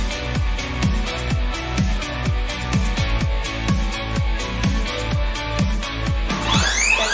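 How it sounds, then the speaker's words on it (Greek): A shop security alarm goes off with a loud, rapidly repeating descending electronic whoop, pulsing steadily and continuously without pause. "Γιατί βαράει ο συναγερμός"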